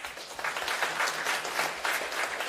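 A conference audience gives a short, dense round of applause for the event organizers, many hands clapping evenly at moderate volume throughout.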